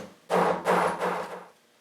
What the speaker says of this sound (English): we have a punch that's used to put holes in our fabric